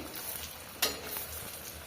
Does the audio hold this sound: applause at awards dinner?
no